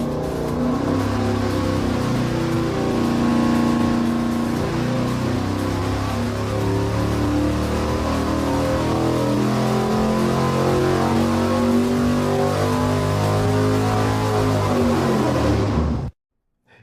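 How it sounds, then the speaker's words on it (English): Engine fitted with beefy pushrods and heavy-duty valve springs running on a dyno, a loud steady roar with strong harmonics held for about sixteen seconds before cutting off abruptly, with no voices over it. "I'm going to make Steve fire it up on the dyno"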